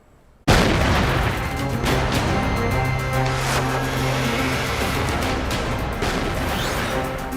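An explosion during a security forces' operation against militants in Kashmir: a sudden heavy blast erupts and then rumbles on as a dense, sustained roar through the rest of the clip.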